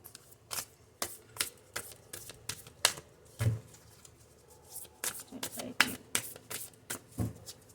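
Tarot cards shuffled by hand in a run of crisp riffling bursts and soft slaps, some sharp snaps among them, fairly close and with no speech over them.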